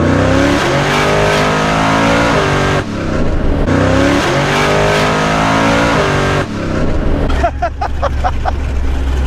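A modified car engine revs hard and accelerates up close through repeated loud climbing pulls with brief gear-change dips, ending in a rough lower burble with crackling pops.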